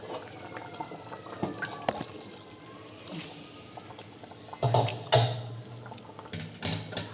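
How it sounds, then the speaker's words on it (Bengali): Water is poured over washed lentils for dal in a kitchen pot, faint clinks and quiet handling giving way to louder splashing and gurgling pours near the end. "তরকা ধুয়ে জল দিয়ে দিচ্ছি।"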